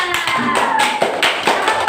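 A classroom group claps in a microteaching session, a burst of sharp, rapid hand claps that stays loud and busy for the full two seconds.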